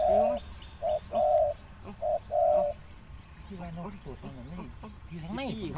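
A spotted dove coos clearly and close by in a rhythmic phrase of repeated hollow notes, after which people begin talking over faint background noise.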